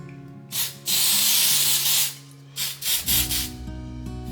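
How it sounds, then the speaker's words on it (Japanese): Accelerator spray blown onto adhesive injected into a loose filler plug during a washroom floor sheet repair, one long close hiss, then several shorter bursts, over a steady background hum. "効果促進スプレーを吹いて効果を促進させます。"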